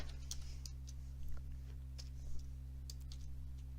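Code being typed on a computer keyboard comes through as faint, sparse clicking keystrokes over a steady electrical hum, with no voice.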